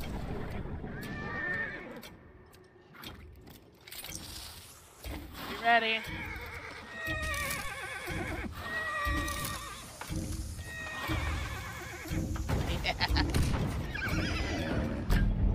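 Horses in the game Hunt: Showdown whinny repeatedly in long, wavering neighs with clip-clopping hooves beneath, while players talk over the sounds throughout.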